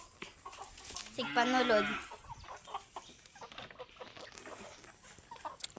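Chickens cluck near a house, with a louder burst of squawking calls early on, under a person talking casually throughout.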